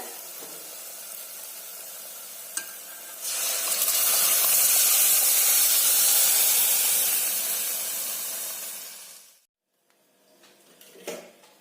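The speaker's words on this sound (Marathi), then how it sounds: "मसाले आपण तेलामध्ये खूप छान फ्राय करून घेतलेले आहेत आता आपण शिजवलेली डाळ घालूयात" Cooked dal poured onto spices fried in oil sets off a sudden loud burst of hissing steam and sizzle that holds for several seconds, fades away, then gives way to quiet with a light clatter near the end.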